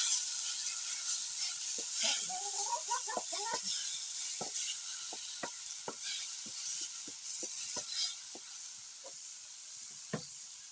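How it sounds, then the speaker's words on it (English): Rice and egg cooking in a pot over a village fire are stirred, with a steady hiss of steam under a series of short, sharp scraping knocks spaced irregularly, close by. "Then you have to stir."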